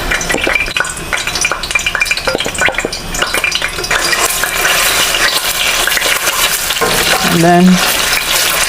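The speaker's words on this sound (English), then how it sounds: "So while the meat is cooking, I'm going to fry the stew base now." Tomato paste frying in hot oil as a stew base for party jollof rice, a loud steady sizzle with stirring clinks, and a voice speaking briefly over it.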